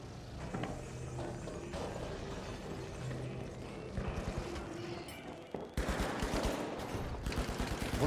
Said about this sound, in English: Why is everything shooting at me?